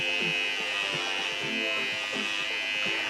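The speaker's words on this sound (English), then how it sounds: "I have my trimmers, my lethal weapon that's going to shave my head" Electric hair trimmers buzz steadily while shaving a head, a continuous close-up motor whine with a bright high tone, its pitch wavering slightly as the clippers move across the scalp.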